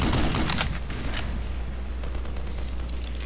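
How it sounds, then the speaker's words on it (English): A turret in Black Mesa fires a rapid, continuous burst of gunfire close by, with loud cracking shots in the first second that thin into a steadier rattling stream over a low mechanical hum. "Oh, it's a turret. It's a turret. Get on the thing."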